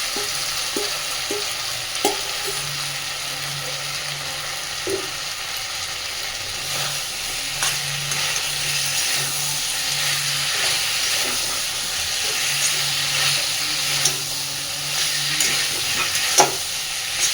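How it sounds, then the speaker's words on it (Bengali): Fried potato and cauliflower pieces sizzle in a pan of prawn masala, a steady close hiss of frying broken by scraping stirs and occasional knocks of a spoon against the pan. "এবার আমি ভেজে রাখা আলু আর ফুলকপিটা এর মধ্যে দিয়ে দিচ্ছি।"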